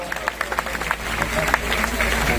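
Crowd applause at a Bhagavat gathering in a cow shelter, a few distinct claps at first swelling into a steady wash of clapping over a low background hum.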